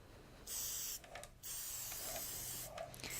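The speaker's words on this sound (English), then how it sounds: "So I'm just going to give it a very light spray" Glaze spray misted lightly over a decorated football cake: a steady close aerosol hiss in two bursts with a short break between, no talk.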